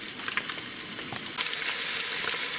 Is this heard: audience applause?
no